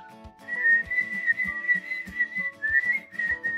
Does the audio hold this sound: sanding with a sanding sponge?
no